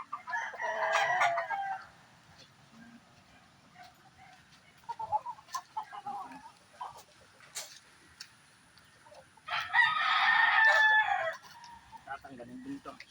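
A fighting rooster crows twice, loud and near: one long crow at the start and another after a quiet gap with faint scattered noises.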